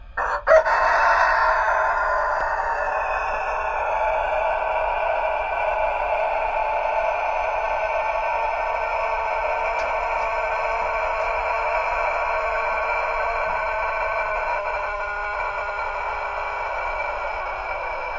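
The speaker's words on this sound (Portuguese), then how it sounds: "O galo cantou." A rooster crows loud and close in one long, drawn-out call that holds steady and trails on for many seconds, with no voices around it.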